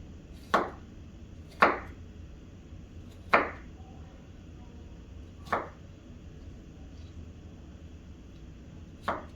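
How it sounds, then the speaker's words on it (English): A kitchen knife chopping tofu into pieces on a cutting board: five sharp, separate knocks spaced a second or two apart, close and crisp over a quiet room, no talking. "Once we get that all chopped up"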